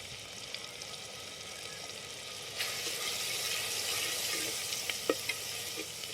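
Turmeric, salt and other tempering ingredients fry in a pan for Maharashtrian varan dal, giving a steady close-up sizzle that swells partway through, with a few faint clinks.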